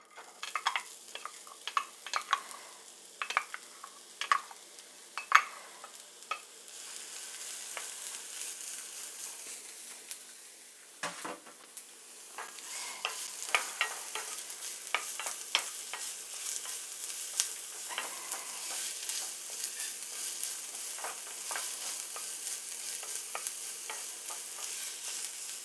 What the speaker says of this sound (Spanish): vamos a poner a freír nuestra cebolla